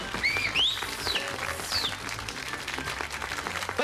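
Studio audience applauding a game show host's entrance, a steady wash of clapping with a few whistle-like tones and cheers riding on top early on, fairly even in level throughout.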